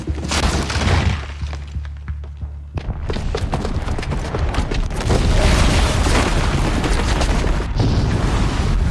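A bomb explodes in the video game Horizon Zero Dawn, a loud booming blast with shattering debris, followed by sustained rumbling and crashing that stays loud to the end.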